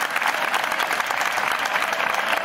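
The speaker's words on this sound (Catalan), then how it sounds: "també un aplaudiment per tots els camarers que ens han ajudat" A crowd at an outdoor summer festival dinner gives steady, dense applause for the waiters. The clapping is loud and continuous and carries on throughout.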